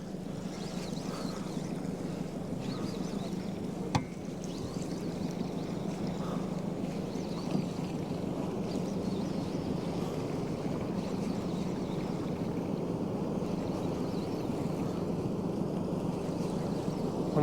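A fishing boat cruises north while trolling lures at sea, its steady low engine drone mixed with wind buffeting and water rushing past the hull, constant and close with a single faint knock.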